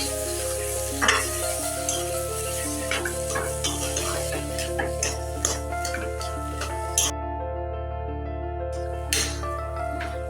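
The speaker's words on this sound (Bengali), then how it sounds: "ধনিয়া পাতাটাকেও ভালো করে আলুর সঙ্গে মিশিয়ে নিচ্ছি" Chopped coriander leaves are stirred into a mashed potato filling for egg chops, a spoon clinking and scraping against the pan in a quick irregular rhythm over a low sizzle and a steady hum, close up without speech.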